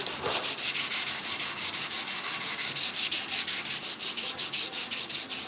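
A 1968 Chevrolet C10 grill shell is hand sanded with 180-grit sandpaper backed by Scotch-Brite, giving a steady, close, rhythmic scratching of quick back-and-forth strokes.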